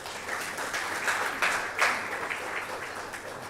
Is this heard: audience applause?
yes